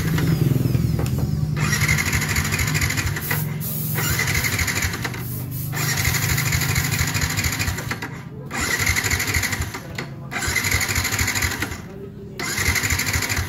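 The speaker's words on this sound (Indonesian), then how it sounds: "Dan ini motornya pun susah hidup ya." Yamaha Vixion motorcycle engine cranking repeatedly and struggling to start, with bursts of rough mechanical churning broken by short gaps, close and loud.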